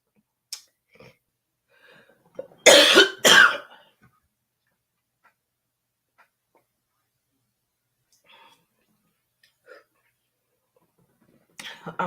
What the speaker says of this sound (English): I feel this cough coming.